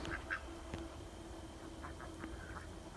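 A Pekin duck quacks a few times in a backyard pen, fairly faint over a steady outdoor hum, with short nasal calls scattered through.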